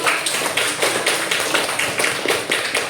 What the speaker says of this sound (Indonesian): Tepuk tangan dulu buatnya.